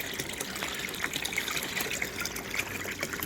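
Water runs continuously through a gold sluice box, a steady close trickling and gushing wash with no pauses.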